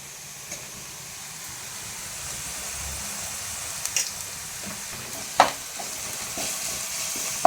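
Ginger paste frying in a pan for an Indian egg and drumstick curry, a steady soft sizzle and hiss with a few brief scrapes of stirring, close and moderately quiet.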